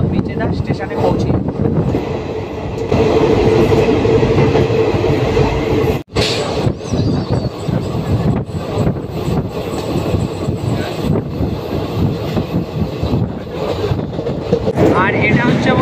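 The 15722 Paharia Express passenger train runs from Howrah toward Digha, with a steady loud rolling rumble, rail clatter and wind buffeting the microphone, plus a sharp jolt near the middle; voices talk over it.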